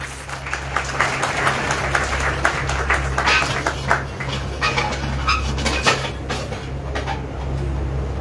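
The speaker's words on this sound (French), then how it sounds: "Nous l'accueillons par vos applaudissements." Audience applause at a Malian government inauguration ceremony welcoming Prime Minister Choguel Kokalla Maïga, a steady crowd clapping throughout with a constant low hum beneath it.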